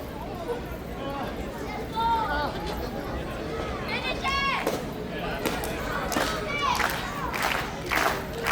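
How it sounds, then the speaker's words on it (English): Wrestling event crowd at a WrestleRave show in New Caney roaring and cheering continuously, with shouts and whistles rising in bursts, loud and close. "This crowd is hot and only getting hotter for Epydemius Jr. in this WrestleRave match."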